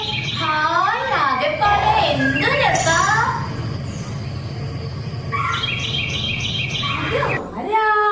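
Birds chirp and trill in quick, bright phrases over a steady low hum, with a brief vocal sound near the start.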